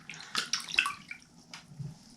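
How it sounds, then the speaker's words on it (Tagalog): Dirty laundry water drains away in brief splashes and drips, a few close watery bursts with short gaps between them. "So i-drain natin siya, tapos ilipat natin siya doon sa malaking container"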